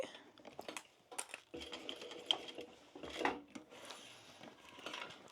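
A sewing machine stitches a tote bag in short, faint clattering bursts with brief gaps, heard close but quiet.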